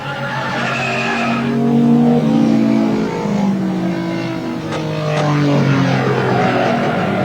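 A vintage race car engine roars loudly and close, rising and falling with revving and acceleration, with a passing swell midway, during a race where a Ferrari has pulled off the course.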